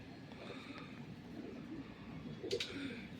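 Pigeons coo softly in a loft, a faint low murmuring with a slightly clearer coo near the end, set against quiet background ambience.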